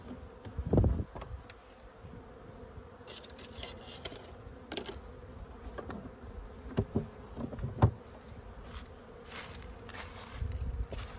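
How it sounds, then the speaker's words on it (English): Honeybees robbing a weak hive in winter fill the air with a continuous, fairly quiet droning buzz, individual insects swelling louder as they pass close, with a few soft knocks and clicks from the hive. "The other bees are just coming in robbing it."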